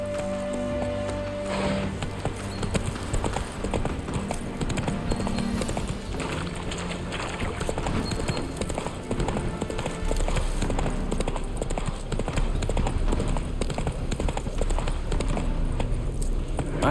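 Horse hooves clip-clop in a steady trotting rhythm in The Witcher 3: Wild Hunt, close and continuous, over a dense background of ambient sound and music.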